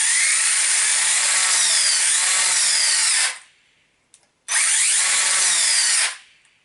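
Hobao Hyper Star monster truck with an 1800kV brushless motor whirs up in two long, loud, steady high-pitched bursts of about three seconds each, separated by a short pause with faint clicks.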